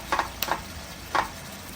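Garlic butter shrimp and potatoes frying in a pan over medium heat, a soft steady sizzle with a few brief spattering pops, close and fairly quiet.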